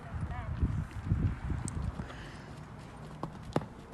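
Horse moving during a jumping lesson, several dull hoof thuds close by in an uneven rhythm, with a person talking over them.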